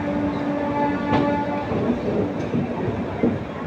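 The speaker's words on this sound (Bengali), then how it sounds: "সামনে ওটা দাঁড়িয়ে রয়েছে, রাজেন্দ্রনগর হাওড়া এক্সপ্রেস" A steady rumble and hum of a train fill the scene around the Rajendranagar Howrah Superfast Express, heard close with faint clatter and a few tonal whines over continuous rolling noise.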